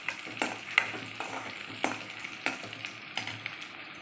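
Mustard, cumin, chana dal and urad dal seeds frying in hot oil for a Telugu-style ivy gourd fry, a steady sizzle broken by sharp pops and stirring clinks at irregular intervals, close and moderately loud.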